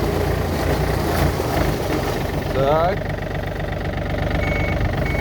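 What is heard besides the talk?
Yanmar F235 tractor engine idling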